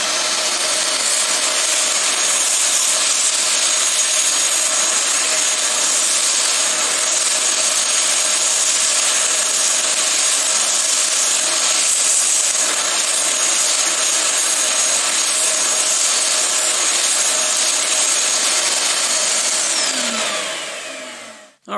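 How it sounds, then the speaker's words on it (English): A Shop Vac vacuum cleaner runs steadily for about twenty seconds, a loud, close, continuous whine and rushing airflow as it sucks dust out of a motor, winding down at the very end, with no talking. "plug in the Shop Vac and turn it on and try to suck all of this out of"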